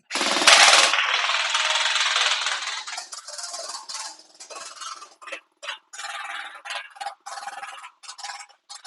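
A LeHui Kris Vector 2 toy blaster fires at a can, opening with a loud continuous rattling burst, then breaking into choppy bursts of rapid clicking shots separated by brief gaps.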